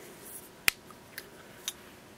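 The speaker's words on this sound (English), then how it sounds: "Here's my Cross Verb. This one makes a really cool clicking noise." A Cross Verb pen gives a sharp, close click, followed by two softer clicks spaced about half a second apart in a quiet room.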